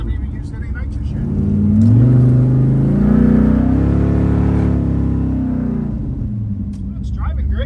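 A drag race car with manual brakes, not yet on nitrous, pulls hard down the Bowling Green track, its engine note climbing and swelling to a loud sustained roar before easing off, with people talking throughout.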